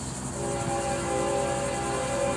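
A horn blasts from FEC 103, a Florida East Coast freight train, at a street crossing, holding one long steady tone over the low rumble of rolling rail cars.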